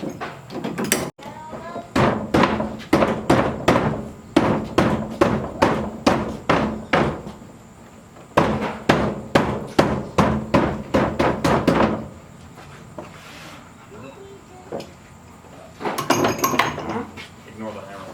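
Repeated hammer blows while installing a Decked truck-bed drawer system, coming in quick rhythmic bursts of loud metallic knocks separated by short pauses, with a brief clank at the start and a final flurry near the end.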